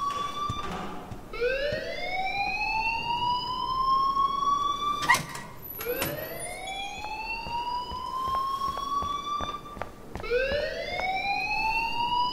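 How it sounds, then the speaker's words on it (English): A fire alarm in the video game Life is Strange repeatedly whoops upward in long rising electronic sweeps, loud and insistent, with a short burst of higher tones between cycles and no speech. "please turn off that alarm"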